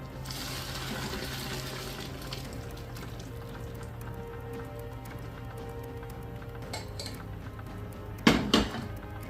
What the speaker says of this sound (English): So we will now add this to the stock pot, get a sieve.